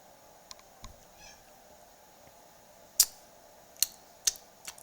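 A domestic cat meows a few times in an indoor kitchen, short faint calls mixed with sharp clicks and ticks, with no talking.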